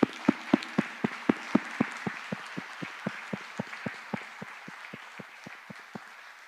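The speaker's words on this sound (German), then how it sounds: "aber jetzt erstmal ein Applaus Ihnen beiden" Steady rhythmic clapping, a small group applauding in even beats that gradually soften, with no voices over it.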